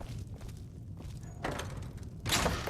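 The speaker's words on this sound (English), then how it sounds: "Close the door." In Skyrim, a door bumps shut with a dull wooden thud, followed by a couple of soft footsteps and a second louder knock near the end, all close and without speech.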